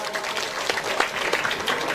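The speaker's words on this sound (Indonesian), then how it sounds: "Tepuk tangan buat kalian semua." A crowd claps steadily and fairly loudly at a school graduation ceremony, a brief burst of applause from many hands.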